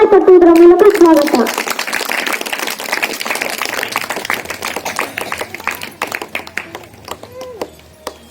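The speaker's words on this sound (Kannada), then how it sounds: "ವೇದಿಕೆಯ ಮೇಲೆ ಚಪ್ಪಾಳೆ ತಟ್ಟುವುದರ ಮೂಲಕ ಸ್ವಾಗತ" Audience applause at a school Teachers' Day celebration, welcoming a senior teacher onto the stage: a short spoken announcement gives way to steady, dense clapping from a crowd that gradually thins and fades out.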